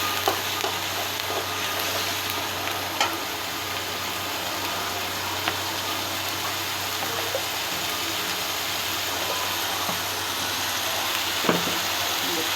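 Spices with dried chili powder sauté in a pan, giving a dense, even hiss of frying that holds steady throughout, with only occasional faint taps of a utensil.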